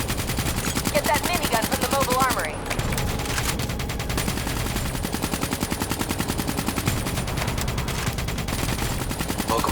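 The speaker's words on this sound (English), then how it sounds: "Get that minigun from the mobile armory." A minigun in Call of Duty Black Ops 3 fires continuously, a dense, rapid rattle of gunfire with mechanical whirring, loud and sustained throughout, with brief game voice and effect sounds mixed in.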